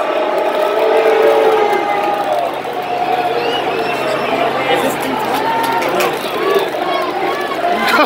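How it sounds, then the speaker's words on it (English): Large baseball crowd at Dodger Stadium during Game 6 of the World Series booing Yuli Gurriel, a sustained broad roar of jeering voices with drawn-out tones rising above it and nearby voices mixed in. "they're still booing him"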